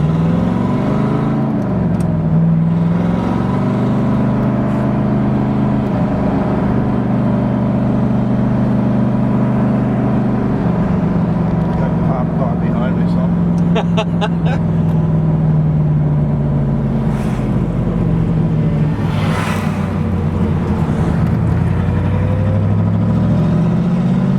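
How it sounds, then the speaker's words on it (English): A 1967 Corvette coupe's original 327/350 small-block V8 with solid lifters and a four-speed manual, running loud and steady up close, its engine note rising and falling through repeated revs. "Small blocks, they just run cool and scream, especially the solid lifter cars."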